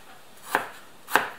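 Large knife chopping half an apple finely on a board: two crisp, close knocks about half a second apart, each with a short sharp attack, over quiet background.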